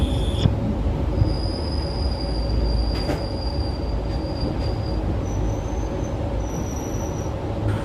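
A train on the Silchar–Guwahati railway line emerges from a tunnel, its wheels rumbling loudly while high, thin squeals ring out intermittently over the steady rolling noise.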